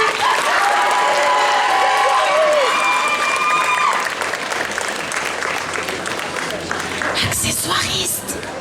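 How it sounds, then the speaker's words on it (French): An audience at a cosplay contest keeps up loud, continuous applause, with voices rising above it early on before the clapping thins slightly toward the end. "Est-ce que je peux vous demander d'applaudir encore un tout petit peu?"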